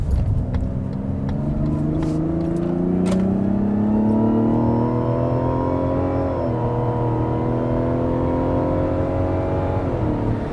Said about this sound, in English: It gets to speed very well. It's fun to drive, and it has a good sound to it as well.